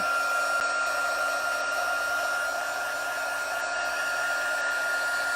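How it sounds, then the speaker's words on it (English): An embossing heat gun runs steadily at close range, a loud continuous blowing whir with a high whine that holds for the whole stretch with no talking over it. "now to emboss this, I want to make sure I get my gun nice and hot"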